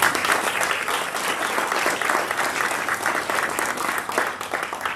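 Sustained applause from an audience at an organizational town hall honoring award recipients, a dense steady wash of many hands clapping for the full length without a break, no voices standing out.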